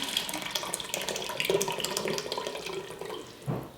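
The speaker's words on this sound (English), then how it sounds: "I'm going to add in the 6 cups of bone broth" Bone broth poured into an Instant Pot for turkey soup, a continuous splashing, gurgling stream of liquid lasting a few seconds at close range.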